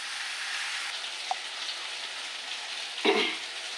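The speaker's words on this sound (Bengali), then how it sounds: "একটু নাড়বো, এইভাবে এইভাবে কষিয়ে নেব" Taro stolons sauté in a pan with a soft, quiet sizzle and faint stirring. A single sharp clink of the utensil sounds near the end.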